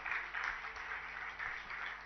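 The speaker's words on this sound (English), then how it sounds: "Louder round of applause" Faint, distant applause from an audience at a startup hub inauguration event, a steady patter of clapping lasting a couple of seconds.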